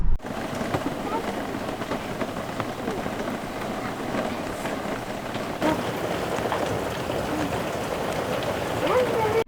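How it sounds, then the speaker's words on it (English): Heavy rain drums steadily on a camper roof in a dense, constant patter, loud and unbroken throughout. "we relaxed in the camper while it rained"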